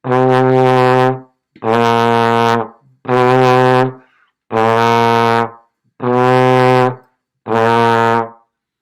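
Trombone playing six sustained notes in turn, alternating between 1st and 6th slide positions, each tone held about a second with short gaps, loud and close with no talking.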